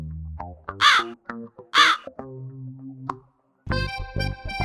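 A crow caws loudly nearby in a village setting, two harsh drawn-out calls followed by shorter ones, then a burst of further rough cawing.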